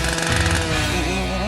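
A power saw cuts loudly and continuously, a harsh buzzing drone with rough vibration, close up and alone without talk.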